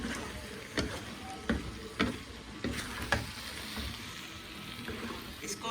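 Potato and egg curry with yogurt being stirred in a pan, soft sizzling under repeated scraping strokes of a spoon against the pan every second or so, close and moderately quiet.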